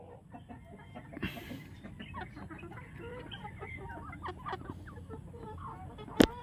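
Chickens being fed cluck softly and intermittently around the feeder, with faint scattered pecking and scratching and one sharp brief sound near the end; no speech.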